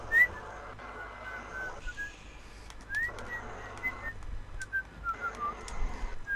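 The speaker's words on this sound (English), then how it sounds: "If you sing, I don't mind, but whistling, I can't stand you." A person whistles a simple tune in short, repeated phrases during a World of Warships game session, with game sounds and background hum underneath.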